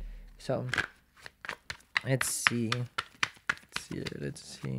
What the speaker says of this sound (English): We're going to shuffle.